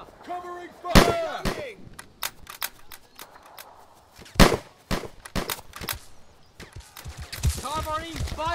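Gunfire in the World War II shooter game Easy Red 2, sharp loud shots and bursts scattered across the scene between shouted voice lines.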